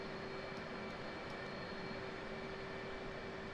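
Steady, even roar of F/A-18C jet engines idling after a cold start in a flight simulator, with a constant tonal whine over broadband rumble, continuous and unchanging throughout.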